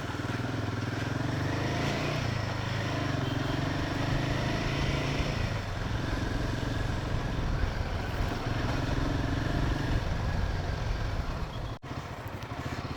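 Two motorcycles, a Hero Xpulse and a Royal Enfield Himalayan, ride together with a steady, close engine drone and road rumble that holds evenly throughout, briefly dipping near the end.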